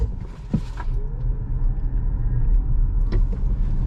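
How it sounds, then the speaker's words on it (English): A 2025 Kia EV6 GT Line Long Range electric car pulling away hard in sport mode after brake torquing, heard from inside as a steady low road and motor rumble with faint whirring and a couple of soft knocks. "we're gonna go ahead and put it into sport mode"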